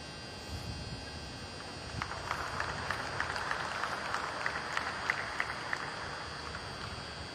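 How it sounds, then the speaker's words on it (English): Scattered audience applause rises in the ring of a Guernsey cattle show, light clapping over a steady background hum, moderately distant and building slightly toward the end. "Let's give them a round of applause when we do so."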